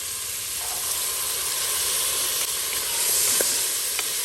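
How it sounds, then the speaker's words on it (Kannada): Carrots, beans and peas frying in a pan, giving a steady bright sizzle and hiss that runs throughout, with a few faint stirring clicks near the end and no talking. "ಇದನ್ನೆಲ್ಲ ಸುಮಾರೊಂದು 5 ನಿಮಿಷ ಹೀಗೇನೆ ಹುರಿಬೇಕು"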